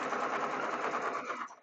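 A sewing machine back stitches a zipper seam on a fabric bag, a fast dense mechanical whir running steadily up close, then slowing and stopping at the end; no voices.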